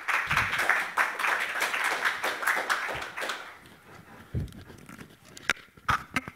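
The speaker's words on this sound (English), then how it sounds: "I like that you clap." A short burst of applause from a small crowd at a university research-talk competition, clapping fast for a few seconds before fading into scattered claps and quiet.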